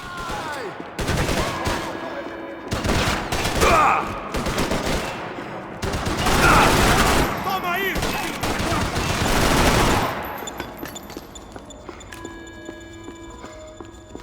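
Grenade blasts and bursts of gunfire in the Max Payne 3 video game, loud dense volleys of shots and explosions in several clusters over ten seconds, then quieter game ambience with faint tonal sounds.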